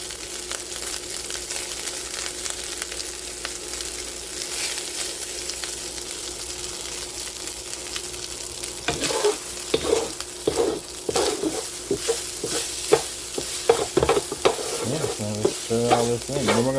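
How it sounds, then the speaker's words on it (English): Rice with bacon and Brussels sprouts toasts in a hot pan, first as a steady sizzle, then with loud, repeated stirring scrapes and clatters over the frying in the second half. "You're basically toasting the rice."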